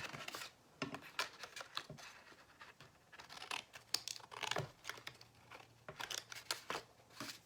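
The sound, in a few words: scissors cutting paper card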